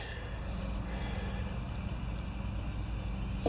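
A small 5/8 horsepower, 1725 RPM electric pump motor on a John Deere A18 pressure washer runs with a steady, low droning hum, constant and unbroken from start to finish.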